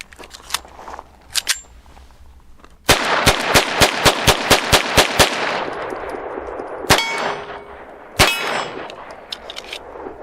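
A Hammerli 1911 pistol in .22 LR fires a rapid string of about a dozen sharp shots on a range, each ringing off a steel plate with a bright clang, after a few scattered earlier shots and followed by two more.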